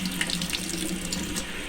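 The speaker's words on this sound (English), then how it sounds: "And I'm going to turn on the tap" Warm water runs steadily from a household tap into a sink, a continuous close hiss and splash with no pauses and no voices.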